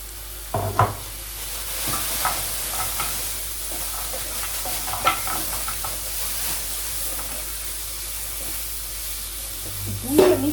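Potatoes dropped into a hot frying pan in a home kitchen, giving a steady sizzle and hiss with a few stirring clatters and scrapes, moderately close and continuous throughout.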